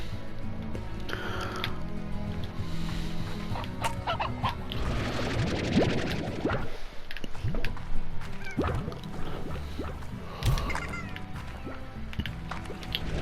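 Clucking of a Stony Hen chicken in the video game Slime Rancher, scattered soft clucks over busy game ambience and splashing, with someone talking through much of it.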